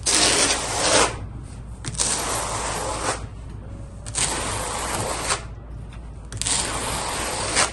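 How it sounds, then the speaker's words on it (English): A trowel spreads thinset mortar for large 24x48 tile in four long, loud scraping strokes separated by brief pauses, close and without speech. "You see when I'm troweling out, I'm keeping my trowel kind of angled like this a little bit."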